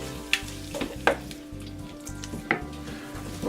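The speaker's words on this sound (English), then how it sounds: "sauteing for about 15 minutes" Cajun meatball sauce sautéing and browning in a pan, a low sizzle with a few sharp utensil scrapes and taps as it is stirred, under a faint steady hum.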